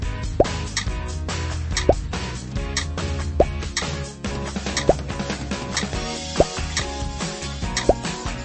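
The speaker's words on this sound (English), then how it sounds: "Move your mouse back and forth to help Bubble Puppy pop the bubbles." Bubbles pop in a Paw Patrol Bubble Puppy video game, a series of bright plopping pops about every second and a half over a bouncy musical backing, each pop crisp and close.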